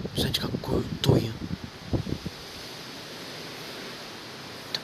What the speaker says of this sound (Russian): Слушайте звуки ветра. Это прям ураган.